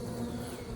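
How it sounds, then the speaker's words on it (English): Dense, steady drone of many honey bees clustered in straw inside a spring hive where they have begun building comb, close and continuous with no talk. "Got a lot of bees in the straw. A lot of bees up here."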